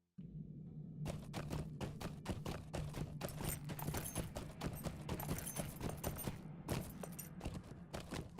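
Horse hooves clip-clop steadily in the Lord of the Rings Online game, a quick even gallop of sharp clacks over a low continuous drone and soft background music, with no talking.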